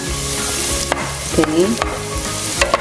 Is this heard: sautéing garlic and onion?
yes